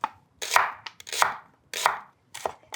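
Onions being cut with a sharp knife on a cutting board, giving four crisp, close chopping strokes at an even pace with short slicing sounds between them and no talking.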